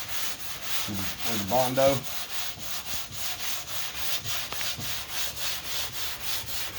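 A hard sanding block rubs back and forth over 2K primer on a car body line, giving steady, rhythmic scraping strokes close by, with a few words spoken briefly near the start.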